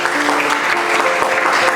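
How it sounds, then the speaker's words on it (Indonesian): A classroom of students bursts into steady, dense clapping for a correct answer in a mathematics lesson on exponents, a continuous loud patter with a faint tone underneath. "Tepuk tangan dulu"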